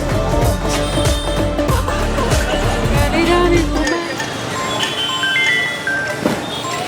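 A noisy street market in Banaras, a dense, loud wash of crowd bustle, traffic and tinny music that thins out partway through but stays busy.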